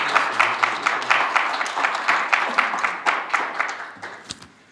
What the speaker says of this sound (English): So let's give Tom Hanson a round of applause,